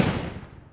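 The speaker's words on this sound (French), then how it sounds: "Explosion légère." A light explosion effect for a western-themed game soundtrack: one soft, muffled boom with a sharp onset that rolls off and decays over under a second, heard alone without talk.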